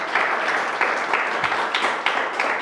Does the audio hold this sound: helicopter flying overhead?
no